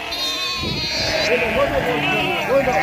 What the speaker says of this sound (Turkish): İçeride kuzu var ona göre.